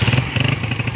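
Motorcycle parked near Rama Lake in Astore Valley, Pakistan, runs with a loud, close, steady engine putter and rapid pulsing throb.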